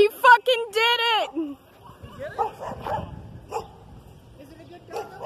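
A dog gives a quick run of high, whiny yips and a drawn-out whimper up close at the start, followed by softer, scattered vocal noises and background chatter as people talk.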